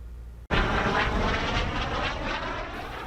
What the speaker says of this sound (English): it's impossible not to hear the Jets as they fly